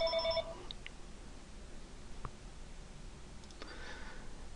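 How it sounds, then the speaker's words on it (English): A phone rings in a quiet room with a brief electronic tone at the start and a fainter ring toward the end, with soft clicks in between and no talking. "my phone rang"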